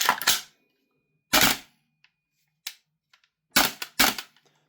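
Five sharp, loud bursts from a CGS gas blowback-style airsoft rifle, a converted standard-gearbox build, fired singly with uneven gaps, close by, with no talking.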